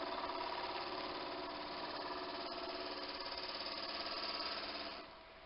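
A power tool drives a Forstner bit into an olive wood blank, trimming it down with a steady, loud grinding whine for about five seconds before the tool cuts off and the sound drops away.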